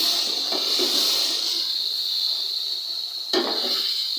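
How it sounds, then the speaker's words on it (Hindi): Turmeric, chilies and salt fry in a pan for an aloo gobi masala, giving off a steady, bright hiss with a brief clatter near the end and no voices. "अब हम इसको अच्छी तरह से भून लेंगे।"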